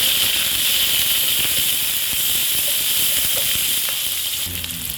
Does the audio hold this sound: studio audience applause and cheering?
no